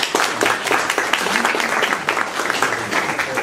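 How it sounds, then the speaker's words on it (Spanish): An audience applauds a guest speaker being welcomed at a talk on religious heritage, lively clapping with distinct individual claps standing out, loud and close, continuous throughout. "Un aplauso, por favor."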